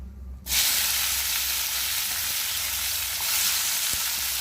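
Tomato hits hot oil in a wok with a sudden loud sizzle that then holds as a strong, even frying hiss, with a faint tap near the end and no talking.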